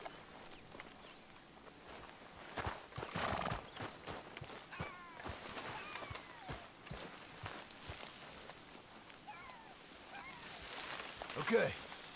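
A pony's whinny in Red Dead Redemption 2, a short rising neigh near the end among hoof clip-clops, bird calls and outdoor ambience, with voices talking nearby.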